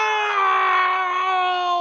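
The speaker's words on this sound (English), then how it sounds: "Jerry starts screaming," A man screams in a 1977 horror film, a long sustained harmonic wail held at full loudness throughout, anguished and close, with no pause or break.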